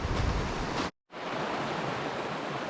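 Stream water rushes along the Pacific Crest Trail at a washed-out crossing, a steady broadband roar close to the mic. A brief dropout near one second cuts the sound to silence.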